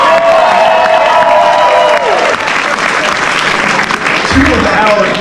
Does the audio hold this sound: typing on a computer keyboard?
no